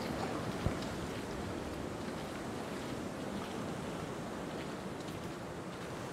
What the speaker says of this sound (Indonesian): Ombaknya gede banget ya